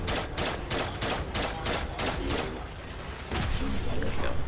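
Rapid gunfire-like bursts and explosions as enemies blow up in Fallout 4, a fast run of evenly spaced loud blasts followed by a brief lull and another heavy burst, dense and close.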